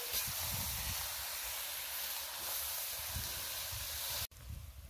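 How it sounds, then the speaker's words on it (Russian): Beetroot with a splash of vinegar sizzles in a cauldron over an outdoor campfire, a steady loud hiss of frying throughout with a brief cut near the end. "Вот такая красота яркого цвета у меня зажаривается в казане, который на костре."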